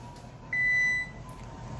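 A kitchen oven timer gives one sustained electronic beep of about half a second, clear and alone over a low room hum.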